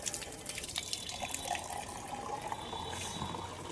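Water runs steadily from a pipe into a filling tank on a hot day, making a continuous close rush and gurgle with bright splashing and no pauses.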